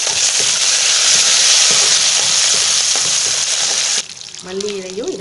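Cashews fry in hot oil with mustard seeds and dal for coconut rice, a loud, dense crackling sizzle that drops off near the end, followed by brief faint sounds.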